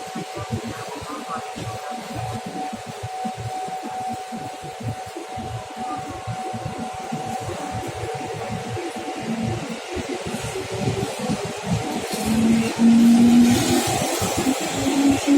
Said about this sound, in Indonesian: Kereta akan jalan lagi.